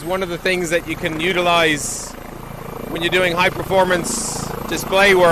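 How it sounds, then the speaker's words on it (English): A helicopter flies overhead, a steady low engine rumble running beneath a person talking about display flying. "Sorry about the helicopter."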